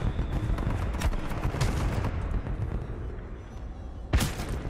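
Mozambique shotgun gunfire in the video game Titanfall 2, a dense run of blasts and chaotic combat noise throughout, with one sharp loud shot near the end.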